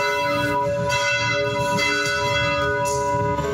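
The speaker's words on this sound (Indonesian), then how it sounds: "Gereja Katedral Jakarta membunyikan lonceng pada Sabtu sore bersamaan dengan pemakaman Paus Fransiskus" Jakarta Cathedral's church bells peal steadily on a Saturday afternoon, their overlapping strikes ringing in a dense, sustained wash with long humming tails and no voices.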